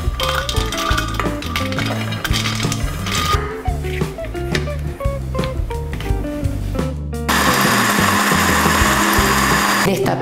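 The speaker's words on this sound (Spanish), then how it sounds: "Entonces es el momento de meterlas a la licuadora." A household blender grinds roasted peanuts into peanut butter, a loud steady motor whir that stops briefly midway, then resumes at a higher, harsher pitch.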